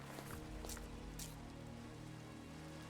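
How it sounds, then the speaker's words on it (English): Rain in the video game Minecraft pours as a constant dense hiss of falling drops, steady and fairly loud from start to finish, with no talking. "Oh, it's raining."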